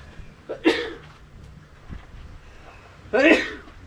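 A person sneezes twice on an old dairy farm with bison nearby, two sharp close bursts a few seconds apart over a quiet outdoor background.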